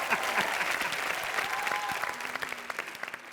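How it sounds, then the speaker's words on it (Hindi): An audience at a comedy show applauds an actor, a dense round of clapping that thins out toward the end into scattered individual claps, with faint voices underneath. "जोरदार ताली हो जाए मेरे जैसे चालाक एक्टर के लिए यार"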